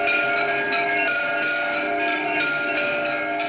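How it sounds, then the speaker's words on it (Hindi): Temple bells and a conch ring out together at the Ram Mandir, a sustained bright metallic shimmer with repeated bell strikes layered over a steady drone, with no talk. "घंटियों और शंख की ध्वनि से पूरा राम मंदिर गूंज रहा था"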